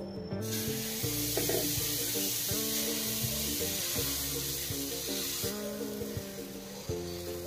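Spongy dosa batter sizzling steadily on a hot pan, a continuous close hiss with no voices.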